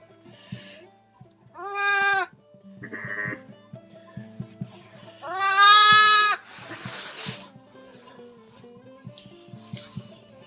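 Sheep and lambs bleat loudly and close by, several separate wavering calls with quieter rustling and shuffling between them.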